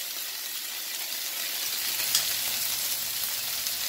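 Beef sizzles and crackles steadily while stir-frying in a hot pan, a constant bright frying hiss with no talking.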